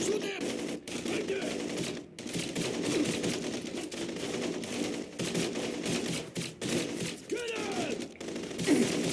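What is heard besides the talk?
gunfire from the video game Blue Estate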